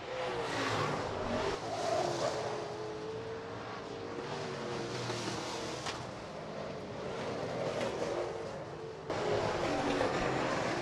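Late model street stock race cars roar down the front stretch at Rapid Speedway during a heat race, a loud, continuous engine drone with rising and falling passes and a brief dip near the end, with no talk.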